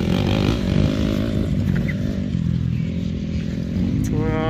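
A 250cc four-stroke dirt bike is ridden on a motocross track, its engine buzzing loudly and close with uneven throttle changes and rising pitch, a short revving climb near the end.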